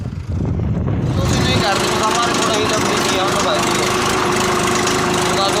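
A Swaraj tractor engine runs with a loud, close, steady idling drone that kicks in after a brief moment and holds throughout, with someone talking over it.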